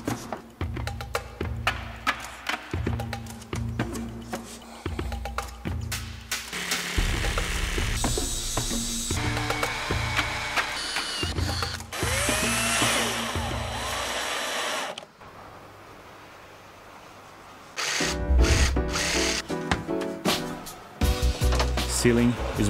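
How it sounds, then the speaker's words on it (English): A Makita router cuts a wood panel for a small camper van build, with whirring and grinding bursts that start and stop, broken by short pauses and mechanical clicks. Near the end the cutting gives way to a quieter stretch before a loud burst comes back. "this Makita router is one of them. Works really well with professional finish."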